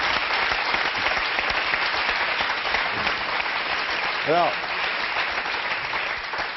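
Studio audience of a French TV show breaks into steady, dense applause that fills the clip at close range, with a host's voice briefly heard over it.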